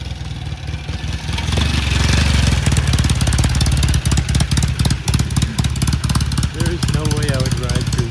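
A Norton motorcycle engine approaches on a street and grows loud, its revving exhaust note rising and settling into a steady rumbling pulse as it draws near.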